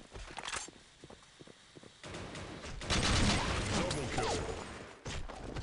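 Shotgun blasts and other weapon fire in the online shooter Blackshot, quiet at first then louder and denser, with sharp repeated shots over the game's background noise.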